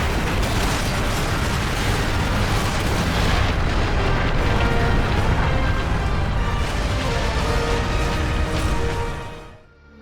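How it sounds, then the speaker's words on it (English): A fortress detonates in the Warhammer 40K Space Marine video game, producing a massive, continuous booming rumble with crackling debris that holds loud for about nine seconds before abruptly fading out. "We're better off seeing this fortress detonate from the outside."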